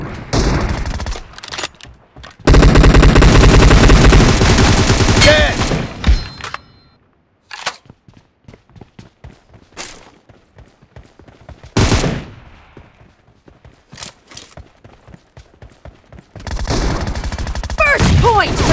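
M762 assault rifle gunfire in the mobile shooter BGMI, with dense loud full-auto bursts separated by quieter stretches of scattered single shots and clicks, closing with another long sustained burst.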